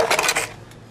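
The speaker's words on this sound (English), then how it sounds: "one of Grandma's pie pans. In this case, a glass one." A glass pie pan clinks and rattles as it is handled, a quick cluster of bright, close knocks lasting under half a second before fading.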